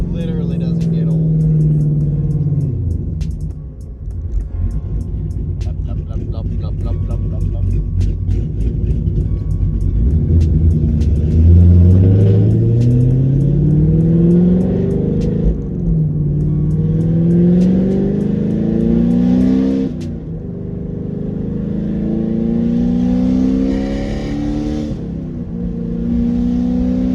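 A Chevrolet Camaro engine revs repeatedly, its pitch sweeping up and falling back in several loud pulls, with people talking throughout over the engine.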